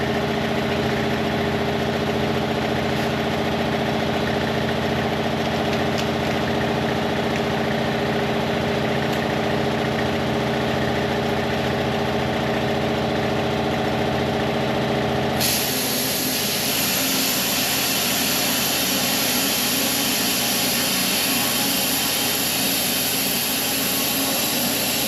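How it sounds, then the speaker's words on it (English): A plasma cutter burns holes in steel, giving a loud continuous hiss and roar that runs without a break and changes tone partway through. "put a bit of video in as I plasma cutting away"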